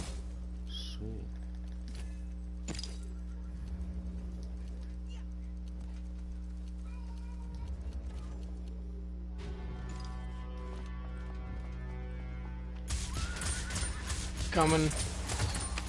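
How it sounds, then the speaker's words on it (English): A horse in Realm Royale clip-clops through a busy game scene, with hoof-like clatter under ongoing speech and steady background hum, ending in a louder burst of noise. "I hear a horse."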